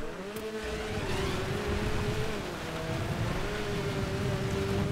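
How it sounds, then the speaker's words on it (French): A car engine drones steadily while driving in GTA 5, a continuous moderately loud hum with slight pitch wavering and gritty road noise throughout. "Une voiture de merde."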